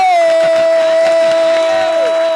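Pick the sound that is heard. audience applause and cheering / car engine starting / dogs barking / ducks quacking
audience applause and cheering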